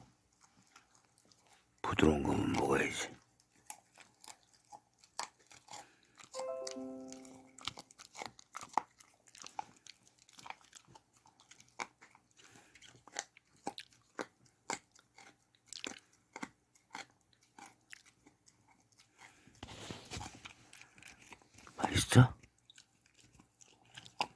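A pet dog crunches and chews food close up in bursts of loud crunching with steady smaller bites between, while someone speaks softly over it at times.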